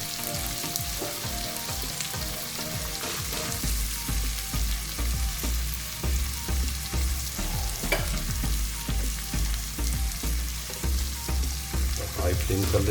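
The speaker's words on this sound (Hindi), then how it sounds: "हल्का सा इसको हम फ्राई कर लेंगे इस तेल में।" Paneer cubes fry and sizzle in hot oil in a home kitchen while being stirred, a steady loud crackle with repeated scraping stir strokes throughout and no talking.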